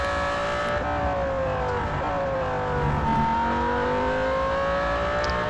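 A Super Trofeo EVO race car engine in Real Racing 3 at Melbourne hums steadily from inside the cockpit, its pitch climbing and dipping through gear changes in smooth rising sweeps.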